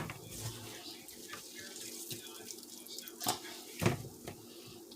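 Running tap water over soy chunks being rinsed and squeezed at a kitchen sink, a steady broadband wash with a couple of brief louder splashes near the end.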